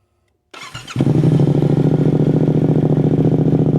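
A Yamaha Tenere 700 motorcycle engine with the exhaust insert removed cranks briefly, then fires up and settles into a loud, rapid, even idle with a raw, unmuffled rattle.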